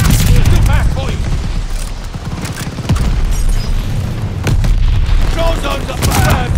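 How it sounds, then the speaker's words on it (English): Mortar shells crash and explode in Call of Duty: Vanguard combat, heavy booming blasts and gunfire layered through the clip alongside game sounds, with loud shouting voices over the action. "They're sending mortar shells!"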